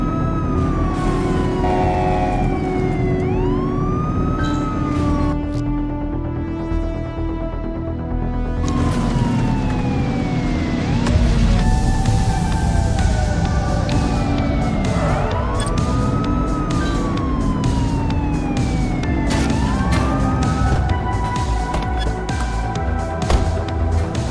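A police car siren wails in a chase in the video game The Precinct, repeated rising and falling sweeps over engine roar, loud and close for the whole stretch.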